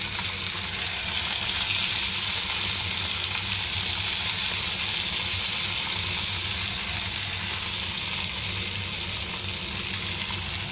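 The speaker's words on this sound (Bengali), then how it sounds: "ফুলকপি আর মটরশুঁটিটাকে তেলে কষিয়ে নেবো বন্ধুরা একটু" Cauliflower and peas frying in oil, a constant dense hiss of sizzling that holds evenly at moderate loudness for the whole stretch, with no voices.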